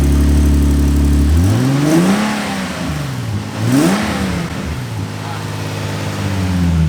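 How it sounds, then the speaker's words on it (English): A Nissan 370Z engine revs from idle, climbing twice in quick swells with sweeping pitch rises and falls before settling back to a steady, fairly quiet hum, loud and close throughout. "Maybe I should do a little rev of it now to see if there's any real noise difference"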